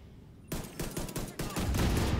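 Rapid pistol gunfire in the video game The Division 2, a loud burst of repeated close shots starting abruptly after a quiet moment and continuing to the end.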